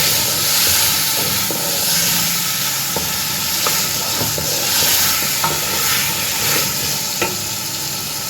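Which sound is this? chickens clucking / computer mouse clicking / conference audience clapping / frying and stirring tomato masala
frying and stirring tomato masala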